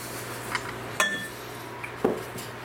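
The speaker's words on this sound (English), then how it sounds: "So I'm just gonna go ahead and mix in our flour." Cookie dough being mixed with flour in a bowl, a few clinks and taps of utensil against the dish, sparse and fairly close over quiet room tone.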